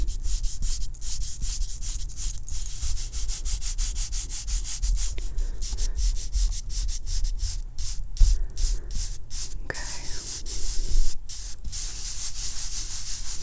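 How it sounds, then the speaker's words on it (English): Soft close-up dabbing and rubbing of makeup into skin during a personal-attention makeup session, a steady papery brushing texture with rhythmic taps and light scratches, quiet and intimate with no talking. "Kind of dab it and rub it in."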